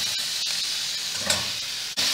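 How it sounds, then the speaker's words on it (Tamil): Tomatoes and green chillies hiss and sizzle as they sauté in a pan, a steady close frying noise broken by a few brief stirring clicks. "இப்போ வதக்கின்னு இருக்கேன்"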